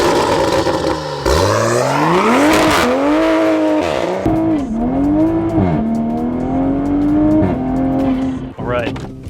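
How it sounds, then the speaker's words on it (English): A Toyota Supra on street tires accelerates hard and loud, its engine note climbing in repeated sweeps broken by quick, sharp gear shifts, with a brief squeal near the end. "that super quick shifting and all the noises it's making and how violent the car pulls"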